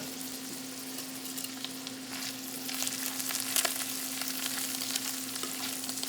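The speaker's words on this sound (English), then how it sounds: "We just want it gently melted and get the lobster morsels all warmed up." Chopped Maine lobster meat warms in gently melted Vermont grass-fed organic butter in a pan, giving a steady soft sizzle and bubbling that swells slightly midway, with a constant low hum underneath and no voices.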